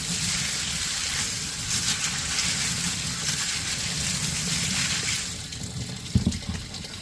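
Water runs steadily over drinking tumblers as they are rinsed, a continuous close gushing splash, with a few light knocks of the cups near the end.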